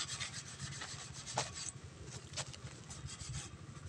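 Close, steady scratchy rubbing of sandpaper on a gate, rough back-and-forth strokes with a few sharper scrapes, no voices.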